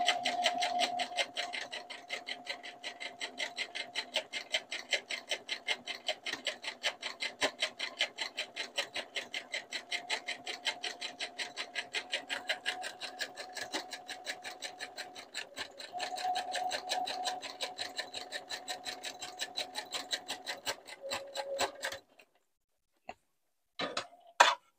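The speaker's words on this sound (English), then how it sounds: "I'm going to press and get started, do a couple of stitches" A sewing machine stitching stretch knit fabric, running in a fast, even rapid-fire stitch rhythm up close for about twenty seconds, then stopping, followed by a few isolated clicks.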